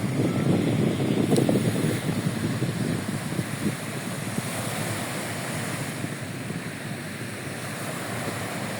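Steady ocean surf at Sipalay City, Negros, rolls and washes continuously, mixed with wind rumbling against the microphone; no voices.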